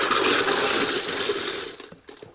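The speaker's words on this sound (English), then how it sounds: "Let's go ahead and dump our brass in." Brass cartridge cases poured into a stainless steel media drum for cleaning before reloading, a dense continuous metallic jingling and clattering that tapers off near the end, close and loud with no talk.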